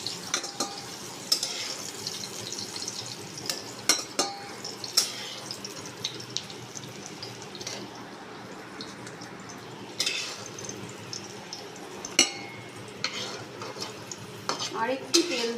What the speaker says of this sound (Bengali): এরপর আমি উচ্ছেগুলো ভাজায় দেবো।